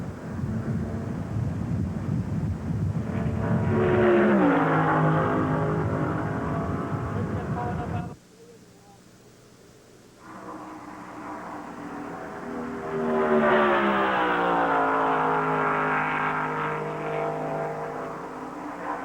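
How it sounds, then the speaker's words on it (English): Terry Labonte's Oldsmobile race car sweeps past at over 200 mph: a rising then falling engine roar with a clear pitch drop, a brief lull, then another swelling, sliding roar, heard from inside a slower car. "let Terry Labonte's Oldsmobile come by at over 200 miles an hour"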